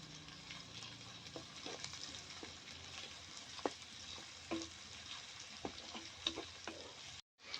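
Onions and green chillies fry in a pan for aloo palak, giving a faint, steady sizzle marked by light, scattered ticks of stirring, with no voices.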